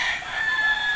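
A pure Texas-breed fighting rooster crows at a game farm in Liliw, Laguna, Philippines, one loud, close, sustained crow.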